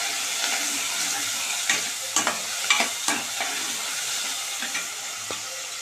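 Onion, tomato and garlic frying with mustard seeds and asafoetida in a pan, a constant close sizzle broken by sharp pops and crackles of spattering oil, no voices.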